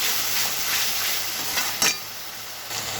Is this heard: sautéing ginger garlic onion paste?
yes